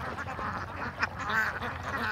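A flock of ducks quacking at moderate distance on a wetland, scattered overlapping calls over a steady outdoor background, with no clear talk.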